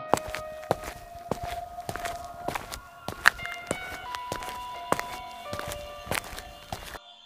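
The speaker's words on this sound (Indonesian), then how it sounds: "mendengar suara langkah kaki gitu" Footsteps sound effect for a spoken horror story: steady, evenly paced steps about every half second, each a crisp thud, set against a faint, eerie tonal drone with no talking.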